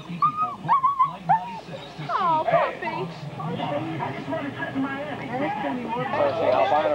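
A puppy yips and whimpers in high, wavering cries, with a few short barks early on, heard close up amid chatter and background voices.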